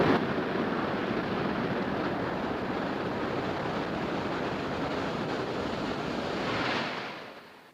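A SpaceX Falcon 9 rocket climbing after liftoff on a Starlink mission gives a broad, continuous roar, like distant rushing wind, that holds steady and then fades near the end.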